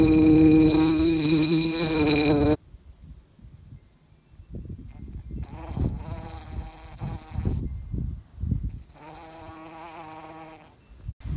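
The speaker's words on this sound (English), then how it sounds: "Angry hornet." Angry hornets swarm out of a disturbed nest near a home in Homer, Alaska, their buzzing loud and close at first, then returning in intermittent droning passes.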